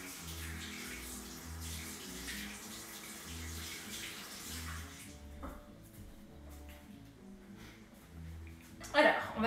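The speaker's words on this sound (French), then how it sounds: "Je me rince juste les mains." A kitchen tap runs steadily while hands are rinsed under it, the water splashing in a sink, with a person talking over it before the flow stops and a clatter follows.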